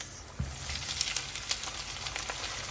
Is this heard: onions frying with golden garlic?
yes